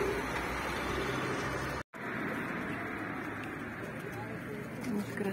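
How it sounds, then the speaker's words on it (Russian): Homing pigeons at a dovecote cooing softly amid steady outdoor ambience, with a brief dropout partway through and a few voices nearby. "Это почтовые голуби,"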